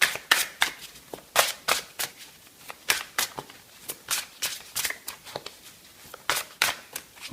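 A deck of oracle cards shuffled by hand for a reading, a rapid series of crisp riffling bursts repeating in an uneven rhythm, close and alone with no voice.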